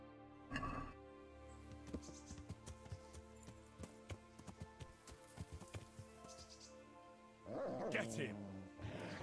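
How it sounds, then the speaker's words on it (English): Dog barking in the medieval video game Kingdom Come: Deliverance, a series of short barks and yips repeating in quick bursts over a game soundscape with music, ending in a louder scuffle. "That's my dog."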